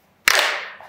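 A single sharp hand clap, crisp and close, during a dance routine.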